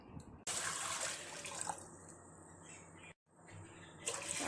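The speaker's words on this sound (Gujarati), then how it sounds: "તો 2 પાવલ પાણી નાખી દીધું છે અંદર." Water is poured into a kadai for making rice papad, a steady splashing stream with a brief pause partway through, plus faint bird calls in the background.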